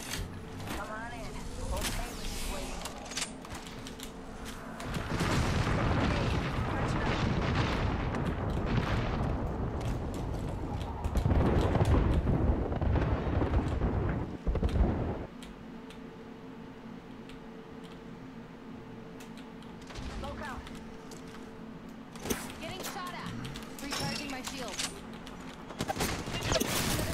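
Gunfire from the video game Apex Legends, a ranked match on Vantage, with bursts and rattling shots in the middle stretch over a steady game backdrop, mixed with a player's talk.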